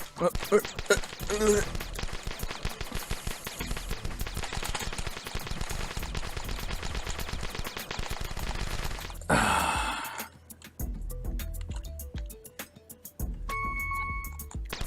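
Rapid, steady video-game gunfire in The Desolate Hope keeps up for most of the stretch, loud and dense with quick repeated shots, then gives way to sparser electronic effects near the end.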